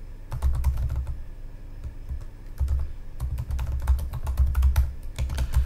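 Rapid bursts of typing on a computer keyboard while Node.js code is written, with dense clusters of crisp key clicks separated by short pauses.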